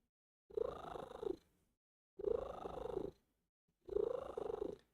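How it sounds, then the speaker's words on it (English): A cat purrs close by in three long, loud bursts of steady rumbling, separated by short silences, with no talking. "Can you purr?"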